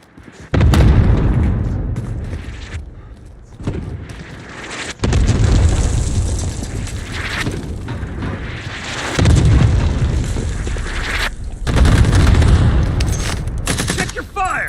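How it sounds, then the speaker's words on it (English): Cluster strike explosions in the Call of Duty Warzone video game, loud and close, roll in several long rumbling waves with dense overlapping blasts, alone with no talk. "Allied cluster strike inbound."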